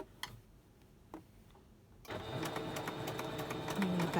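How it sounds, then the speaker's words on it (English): A sewing machine starts up and runs steadily at slow speed, back stitching over the folded pleats of a fabric mask, following a few sparse clicks at the start. "I'm gonna back stitch in the beginning."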